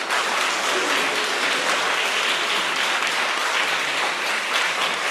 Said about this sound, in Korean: 우리 중창단 위에서 다시 한번 박수 쳐볼까요?